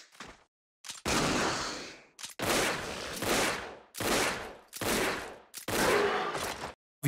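Matchlock gunfire in the video game Onimusha: Warlords: about six loud, close bursts of firing, each lasting under a second, separated by brief silent gaps in an uneven rhythm.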